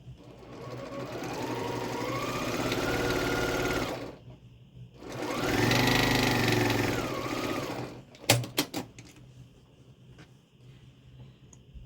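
A sewing machine stitches strips of quilt fabric together for a Halloween quilt, running in two sustained bursts of several seconds each, close and steady, followed by a few sharp clicks and handling noises.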